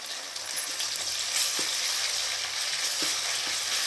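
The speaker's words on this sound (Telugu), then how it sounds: "సో ఇది బాగా వేగాలండి" Onions frying in a pan produce a dense, continuous sizzle, loud and close, with a few faint knocks underneath.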